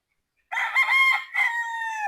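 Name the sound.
gamecock rooster crowing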